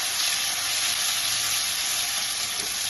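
Chopped tomato and green chilli frying in a pan for spiced mashed red lentils, giving a steady, close, bright sizzle with no talking.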